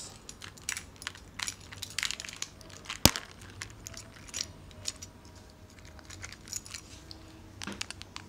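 Bike keys jangle and clink in scattered bursts over about eight seconds, with one sharp louder clack near the middle, moderately close and with no voices.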